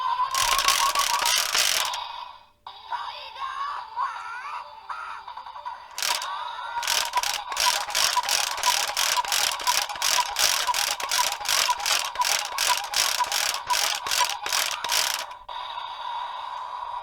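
DX Tigerdora toy's ratchet mechanism spun by hand, giving loud, close rapid plastic clicking in bursts, with a short pause and then a long steady run of repeated ratcheting clicks.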